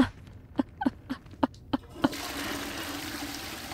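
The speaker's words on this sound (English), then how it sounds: "That is a toilet flushing." Toilet flushing in the video game Hogwarts Legacy, a handful of faint dripping plinks followed by a soft, steady rush of water running to the end.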